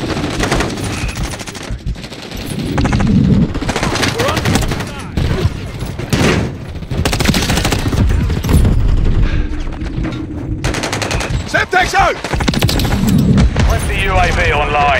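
Rapid automatic gunfire from Call of Duty: MW III Season 3 multiplayer, loud sustained bursts and booms running nearly the whole time, mixed with shouted callouts from in-game voices.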